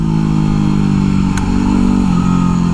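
A dirt bike engine revs steadily and loudly while riding, a continuous close-up motor drone that swells slightly in pitch toward the end, with no talking.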